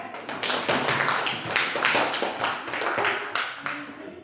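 Applause in a classroom rings out as a group of students claps together, a dense, steady patter of many hands kept up for about four seconds at fairly close range, with no one speaking over it.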